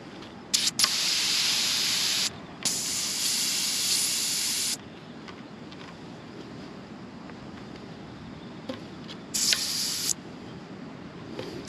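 Air hisses out of a gravel bike's rear tire valve in loud bursts of a few seconds each, with pauses between and a quieter hiss near the end.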